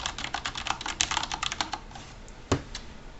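Mechanical key typing on an Azio Levetron Mech4 keyboard, a quick close run of crisp clacks that thins out toward the end, with one louder bottom-out thud near the finish.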